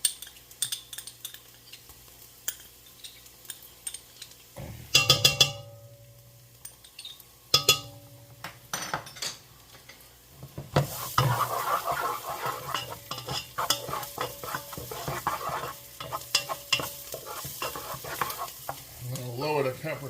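Garlic dropped into a pan for tomato risotto, with a few metallic clinks and then a busier sizzle as it is stirred, moderately loud and close, with utensil scrapes scattered throughout.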